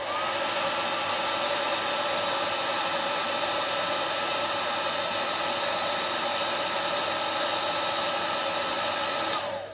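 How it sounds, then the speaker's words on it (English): A heat gun blows steadily on a high-power Schottky diode, a continuous loud, even whooshing roar of fan and hot air that holds unchanged for nearly ten seconds before cutting off at the end. "Dodgy heat gun, here we go."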